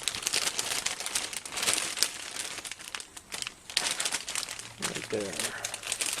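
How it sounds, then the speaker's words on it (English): A plastic bag crinkles and rustles close up in repeated handling bursts during engine gasket work, with a person speaking briefly. "Sorry for the rustling."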